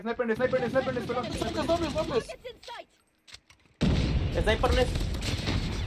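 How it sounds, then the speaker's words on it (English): Airstrike explosions in a video game match: heavy booms and blasts break out, briefly drop away, then return as a loud, dense rumble, with excited players talking over much of it. "Friendly airstrike incoming"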